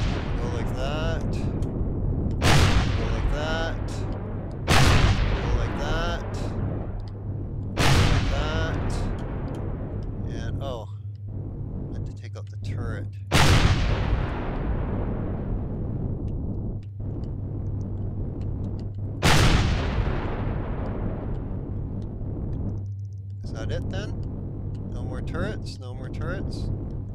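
Guided rocket fire in the video game Empyrion - Galactic Survival: about five loud, sharp blasts with long decaying tails are spaced several seconds apart over a steady engine-like hum, while someone talks throughout.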